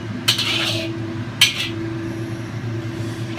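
Metal utensil scraping and clinking against a hot wok as oil is stirred around to coat it, two sharp bright scrapes over a steady low hum, close and fairly loud.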